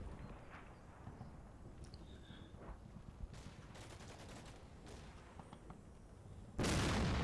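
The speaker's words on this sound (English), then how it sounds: "That's a mortar." Mortar and gunfire in a wartime strategy game. The sound is faint and distant: scattered thuds, then a short burst of rapid cracks, ending in a louder wash of noise.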